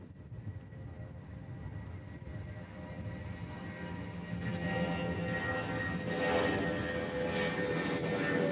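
A jet airplane at Honolulu airport roars at a distance, its engine rumble building gradually louder and fuller over several seconds.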